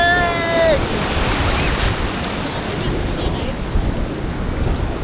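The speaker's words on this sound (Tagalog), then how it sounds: "Dagat lang oh!" Sea waves wash onto the shore on a ride to Bolinao, Pangasinan, a steady broadband roar of surf with wind buffeting the microphone throughout and a brief tonal whistle at the start.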